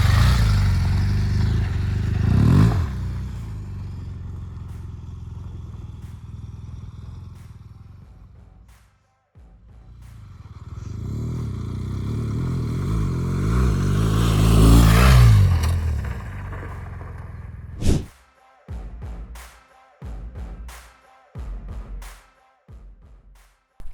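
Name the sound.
BMW R1200GS adventure motorcycle riding and jumping off-road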